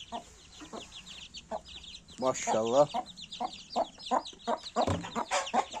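Chickens cluck in short, repeated bursts nearby, with a brief exclamation from a man partway through and soft chirps of new chicks in the background.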